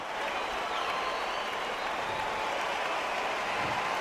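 A capacity crowd at a title boxing match in a video game applauds in a steady, dense wash of clapping and crowd noise that holds for the whole stretch.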